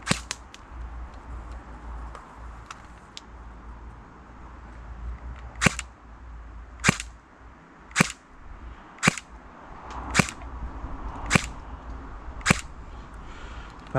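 A Tokyo Marui HK45 airsoft pistol fires a series of sharp, evenly spaced snapping shots through a chronograph, roughly eight cracks about a second apart over a quiet room background.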